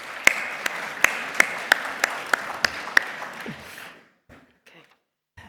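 Sharp, evenly spaced claps ring out about once every third of a second for several seconds, then fade into near silence with a few faint taps.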